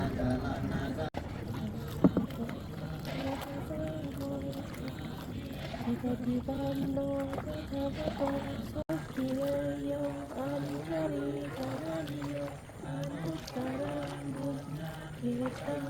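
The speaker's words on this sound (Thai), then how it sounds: "เรือพระออกไปแล้วนะคะ" A boat carrying monks sets out across Kwan Phayao lake during a Visakha Bucha candlelit water procession. A motor hums low and steady under continuous chanting and talk, with occasional wind buffeting the microphone.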